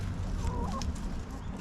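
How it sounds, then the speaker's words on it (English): A small backyard flock of healthy-looking hens clucks nearby in short, soft bursts over a low background murmur. "They're very healthy looking chickens."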